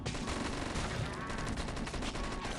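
Sustained rapid machine gun fire in the zombie game Dead Ahead: Zombie Warfare, loud and continuous with a dense rattling texture throughout.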